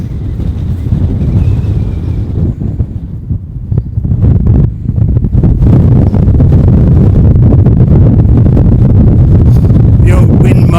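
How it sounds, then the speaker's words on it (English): Strong gusts pound a microphone wind muff on an exposed hilltop, Cley Hill near Warminster, giving a loud, rumbling low buffeting that swells and surges, with brief crackles and a voice heard faintly under it. "The old wind muff's getting a bit of a battering. It's almost blowing off."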